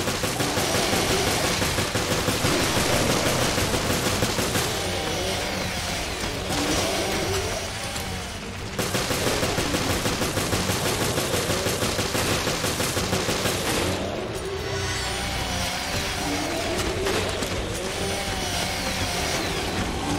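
Gunshots in the Resident Evil Revelations video game ring out amid a dense, loud, continuous din of rattling fire and mechanical noise, with a couple of brief lulls.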